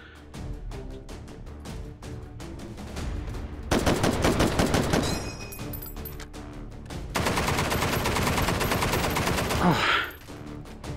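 M1 Garand rifle fire in the VR shooting game Hot Dogs, Horseshoes & Hand Grenades, with sharp single shots cracking at intervals, sometimes in quick successive strings, between quieter mechanical handling noises.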